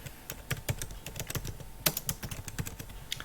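Quick clattering keystrokes on a computer keyboard while code is typed, a steady close run of taps with a few louder hits and no talk.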